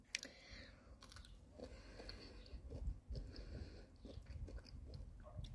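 Close crunching and chewing of a chocolate bar filled with pistachio cream and crisp kataifi pastry, with irregular crisp bites and munching running throughout without speech.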